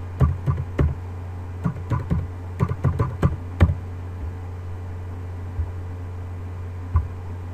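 Computer keyboard keys pressed while entering a security key during ASUS router setup: quick clusters of sharp clicks, then sparser single taps, close and clear over a steady low electrical hum.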